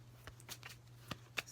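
Gypsy playing cards are shuffled quietly, a few soft, separate flicks and snaps close by in an otherwise hushed room.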